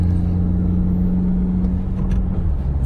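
A car engine pulls steadily in third gear, a continuous low droning hum with a strong steady tone, close and loud from inside the moving vehicle, with no talk.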